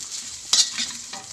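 Chili fried rice is stir-fried in a pan, with a hissing sizzle and sharp scraping strokes of the spatula coming a few times in quick succession, close and clear with no talk.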